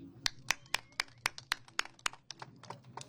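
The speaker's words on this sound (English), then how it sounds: "Let's have a round of applause" Slow, evenly spaced hand claps at a press conference, about a dozen over three seconds, fairly faint and distant rather than a full burst of applause.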